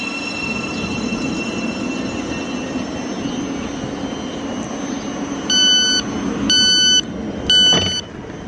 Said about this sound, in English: Empty train. Terminates at Peterborough.